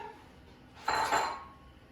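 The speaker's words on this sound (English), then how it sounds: "carefully so we don't splash ourselves, the potatoes in the boiling water" A brief clattering splash as potatoes drop into a pot of boiling water, one short burst against a quiet kitchen background.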